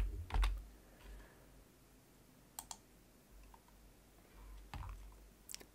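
Quiet typing and clicking on a computer keyboard during hull modelling work in Maxsurf Modeler, a few scattered bursts of keystrokes with pauses between them, close but soft.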